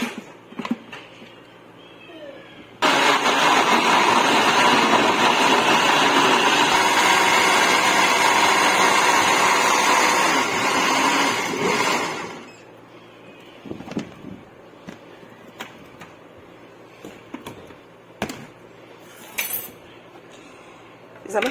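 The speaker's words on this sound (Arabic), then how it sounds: "وهضربها بقى ايه في الخلاط الطماطم بالصلصه بنص كوبايه الميه" A blender purees fresh tomatoes with tomato paste and about half a cup of water, a loud, steady, close whirring roar that runs for about ten seconds before cutting off, followed by quiet with a few small clinks.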